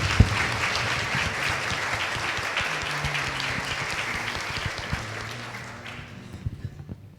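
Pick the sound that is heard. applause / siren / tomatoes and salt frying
applause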